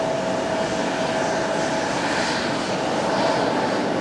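A Fuji Dream Airlines ATR 42 turboprop airliner at Fukuoka Airport gives off a steady, broad engine drone with a faint tonal hum, constant and moderately loud throughout.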